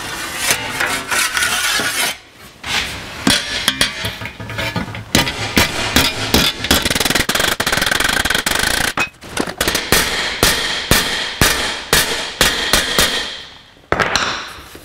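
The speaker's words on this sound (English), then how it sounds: "But we can take a hammer to it," Hammer striking a bent metal tab to straighten it on a switch pedestal for a 1949 Chevrolet gasser: a long series of sharp, loud metallic blows in quick, uneven bursts, close by, with short pauses between runs.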